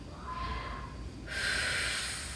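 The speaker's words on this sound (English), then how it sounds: "Take deep breaths in." A single deep breath drawn in during a gentle stretching and breathing count, a soft airy inhale that swells and brightens partway through, close and alone without talk.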